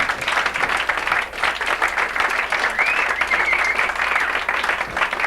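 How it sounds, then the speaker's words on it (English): A studio audience at an orchid show gives loud, sustained applause for a guest and his helpers, with dense clapping and faint crowd noise throughout. "let's have a big round of applause for Matt Owens and all his helpers"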